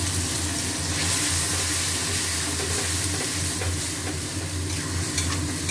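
Spinach paste frying in a pan after onions and spices, a steady dense sizzle with continuous scraping and stirring close up, no voices.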